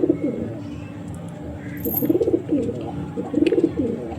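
Pigeons coo up close in several rolling, throaty bursts, with a soft bird chirp in between the low repeated calls.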